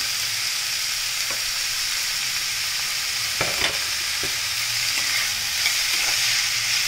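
Tomato sizzling in a hot pan with carrot, stirred now and then, making a loud continuous hiss broken by a few sharp scraping clicks of the utensil against the pan.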